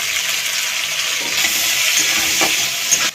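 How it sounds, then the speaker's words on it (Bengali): Chopped onions and tomatoes fry in oil with bay leaf in a pan, giving a loud, steady, close sizzle with a single stirring knock near the end. "পেঁয়াজগুলো একটু হালকা করে ভেজে নিয়েছি"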